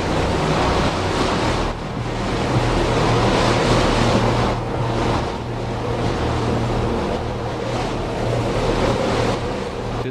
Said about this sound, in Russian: Это, блин, ветрюган